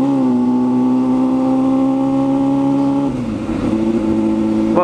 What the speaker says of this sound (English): Loud exhaust.